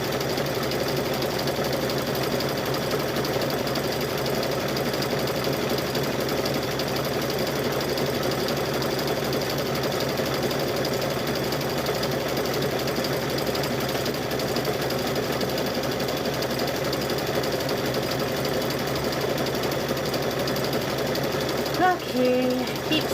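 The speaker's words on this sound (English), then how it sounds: "It's completely amazing what that sewing machine will do." A sewing machine stitches through a fabric-wrapped rope bowl, its motor humming in a fast, even, rattling rhythm that runs loud and continuous throughout, with a brief clunk near the end.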